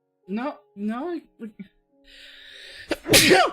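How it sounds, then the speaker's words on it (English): A single loud, sharp sneeze with a breathy intake just before it, following a few spoken words from a nearby voice in a quiet indoor room. "Oh, that was a terrifying sneeze"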